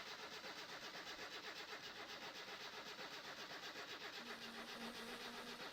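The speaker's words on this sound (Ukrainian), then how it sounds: "Давайте я заведу машину, перевірю, чи вона взагалі заводиться після всіх моїх махінацій." Video game ZAZ Tavria car engine starting, a faint, steady, rapidly pulsing mechanical drone that runs continuously, with a low tone joining near the end.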